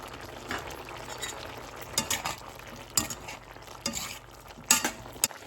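Paneer cubes dropped into a pan with soy sauce and vinegar for chilli paneer, giving a steady sizzle with a few sharp stirring clinks and spoon scrapes close by, no talk.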